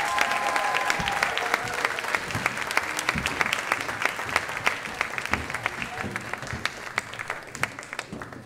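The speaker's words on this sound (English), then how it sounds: "One more round of applause" An audience claps for a concert choir at a school year-end music concert, sustained dense applause with a few sharper individual claps, fairly even throughout.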